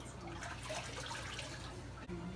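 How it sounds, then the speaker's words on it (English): An aquarium filter sponge is rinsed and wrung out in tank water, giving a close, continuous splashing and squelching wash of water with a brief dip just before the end. "I'm gonna just wring all of this out, rinse it out real good."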